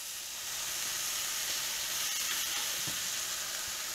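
Mushrooms go into a pan of browned onions and sizzle with a soft, even, hissing fry that holds steady throughout, with a few faint clinks of utensils.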